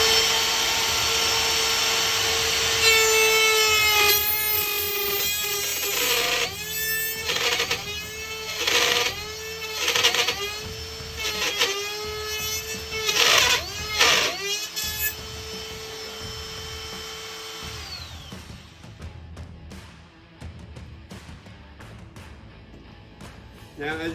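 A Ryobi 18-volt cordless router whines at high pitch as it bites into wood, cutting in repeated bursts before spinning down into quiet.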